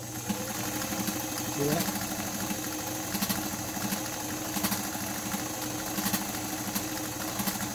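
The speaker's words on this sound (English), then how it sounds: "So you'll see as we sew that as we zig and zag, the needle's going to make several stitches" A White 764 sewing machine runs steadily while sewing zigzag stitches, its motor humming with a fast mechanical chatter as a person talks over it.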